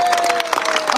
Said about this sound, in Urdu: جو تالیاں نہیں بجائے گا سمجھو کسی اور نے اس کو بھیجا ہے. تالیاں بجاؤ